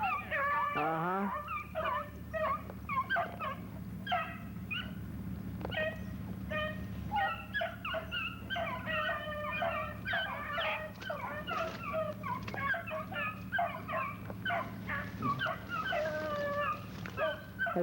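Several hunting dogs bay on a rabbit hunt in the brush, a busy, overlapping chorus of yelps and howls that runs on without a break over a steady low hum.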